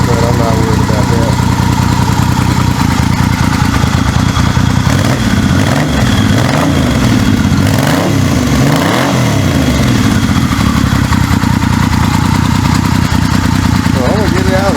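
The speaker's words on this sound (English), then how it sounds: "Motor sounds good, no rattles." A 1979 Yamaha XS 850 Special motorcycle engine idles steadily with no rattles and a small exhaust leak, a loud continuous rumble with slight wavering in pitch that holds throughout.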